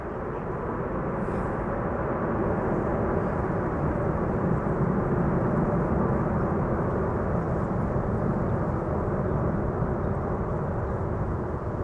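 An airliner landing at Amsterdam Schiphol roars loudly and continuously as its thrust reversers deploy, a dense, close, unbroken rumble lasting the whole stretch with no voices over it.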